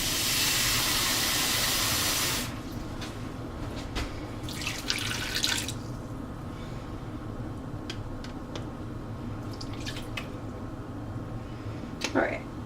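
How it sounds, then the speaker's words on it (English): Tap water pours steadily into a pot of pulled pork for about two seconds, a loud close rush, then stops, leaving quiet kitchen clatter and a few small splashes and clinks. "I'm going to add some water."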